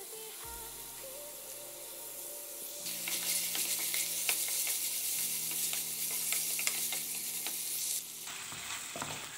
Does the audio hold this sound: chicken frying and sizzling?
yes